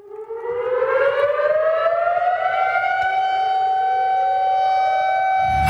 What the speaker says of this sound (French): La sirène qui a transpercé le silence à l'instant, d'un bout à l'autre du pays